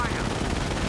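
Sustained machine gun fire rattles without pause in a Company of Heroes battle, a dense, loud burst of rapid shots filling the whole moment.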